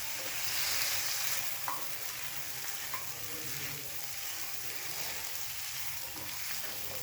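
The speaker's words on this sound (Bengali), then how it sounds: "এবার গ্যাসটাকে হাই ফ্লেমে রেখে 2 থেকে 3 মিনিট সমস্ত উপকরণগুলো নাড়াচাড়া করব।" Potatoes and spring onions are stirred in a pan over a high gas flame, giving a steady close sizzle and frying hiss with soft scraping stir strokes throughout and no talk.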